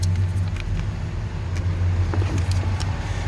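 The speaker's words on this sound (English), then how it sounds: "let's slip around to the back of this so you can hear it run" A 2018 Ram 2500 pickup truck's engine idles steadily from behind the vehicle, a continuous low rumble with a faint hum and no speech.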